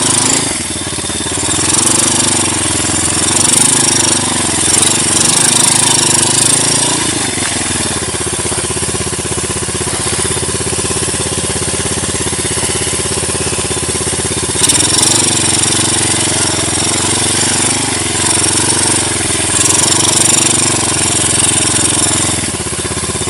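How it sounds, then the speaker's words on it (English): Dirt bike engine runs in first gear on a dirt road near an abandoned uranium mine, a steady close mid-pitched drone that rises and falls slightly twice, with no talk. "I'm putting my bike in first gear."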